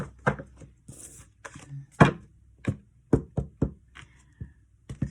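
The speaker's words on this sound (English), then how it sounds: "I always like to knock on the cards before I take any cards." Knuckles knock on a deck of tarot cards, about a dozen quick, dull taps in an uneven rhythm, close and fairly quiet, with no talk.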